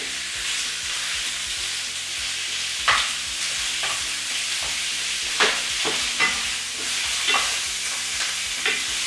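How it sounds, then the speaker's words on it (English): Strips of beef sear in very hot oil, with a steady loud sizzle throughout and occasional scrapes and knocks of stirring in the pan. "I've just cut my beef into strips, into my very hot oil. So I need to just brown this"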